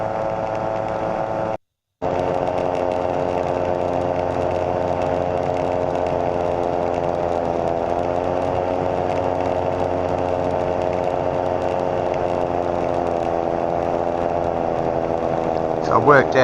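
Slipstream Genesis light aircraft with big three-stage flaps coming in slowly to land, its engine a steady, loud harmonic drone that holds nearly unbroken, with a brief dropout early on.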